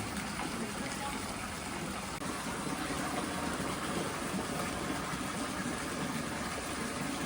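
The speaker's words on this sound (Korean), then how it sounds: "세계의 폭포가 이렇게 물줄기가 세 개인데" Water pours steadily from the three-stream waterfall at Kiyomizu-dera temple in Kyoto, a continuous broadband rush that stays fairly faint, with crowd and voices mixed into the background.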